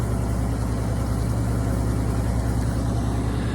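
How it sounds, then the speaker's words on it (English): A boat engine idles steadily after an impeller change, its exhaust burbling up close in a low, continuous rumble with no voices over it. "as you can hear, and maybe even see a little bit down here is the exhaust"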